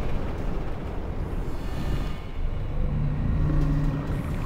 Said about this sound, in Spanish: Estruendo anuncia una nueva oleada de lava.